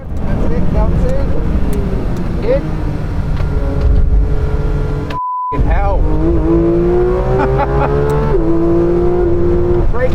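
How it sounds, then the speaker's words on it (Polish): A heavily modified Porsche GT3 RS race car laps a circuit, its loud engine howl rising and falling through gear shifts with a brief cut-out midway, and tire noise beneath as a voice talks over it. "nadszedł mój czas na pierwsze okrążenia w tym samochodzie"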